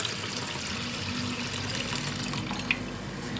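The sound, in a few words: pouring cold water into a pot for belila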